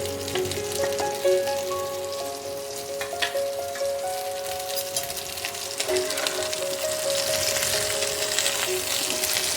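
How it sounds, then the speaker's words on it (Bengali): Potatoes and pointed gourd fry together in oil, producing a steady, moderate sizzle with faint crackles and occasional utensil ringing close by. "আলু পটল একসাথেই ভেজে নেব, আলাদা করে ভাজার দরকার নেই।"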